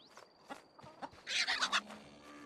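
Chickens cluck in a quick run of short, bright calls within the RuneScape: Dragonwilds survival game, a cluster of louder clucks rising midway over quiet ambient game sound.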